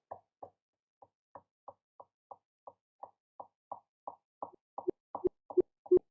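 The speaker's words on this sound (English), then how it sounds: "We've got a self-oscillating filter." Self-oscillating filter in Ableton Operator synth producing a steady run of short, plopping tonal blips about every third of a second, quiet at first and growing louder and more resonant toward the end, with no talking.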